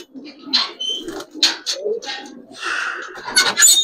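Giribaz and colored pigeons coo close by in a series of soft, throaty bursts with short pauses between, and brief fluttery sounds that may be wing flaps.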